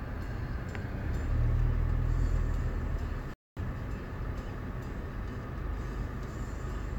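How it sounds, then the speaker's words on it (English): Busy road traffic on International Drive gives a continuous, fairly loud rumble of passing vehicles with a swelling pass early on, broken by a very brief dropout midway. "how much I hate the traffic in this area?"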